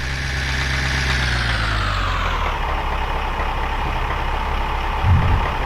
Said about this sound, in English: noisy, nasty truck has arrived